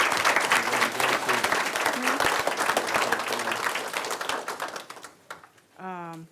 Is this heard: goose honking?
no